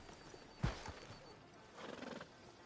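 A horse in Red Dead Redemption 2 gives a sharp neigh with a thud of hooves, then a second, longer whinny follows, fairly faint and heard alone.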